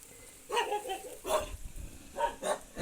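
Dogs bark at a farmhouse, several sharp bursts in separate clusters at moderate distance, with a faint voice in the background.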